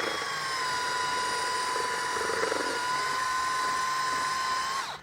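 Electric mixer blades churning through thick hide paste to break up lumps, a steady whining mechanical drone with a high motor tone, running continuously for about five seconds before cutting off, with no talking.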